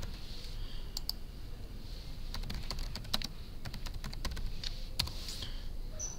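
Quiet typing on a computer keyboard, with scattered light clicks of single keys and short bursts over a soft background hiss, close to the listener and with no talking.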